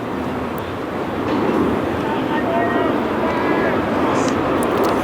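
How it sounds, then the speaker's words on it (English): A loud propeller or jet aeroplane passes over an English cricket ground during a Test match between England and India, a steady broad roar that swells after the first second and holds, with commentary voices underneath. "A noisy aeroplane."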